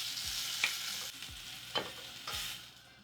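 Shrimp for prawn masala frying in a pan, a steady close hiss of sizzling oil broken by a few scraping stirs, no talking.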